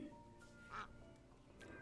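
A duck in the Lil Guardsman video game gives a single faint nasal quack amid a layer of music and background sound.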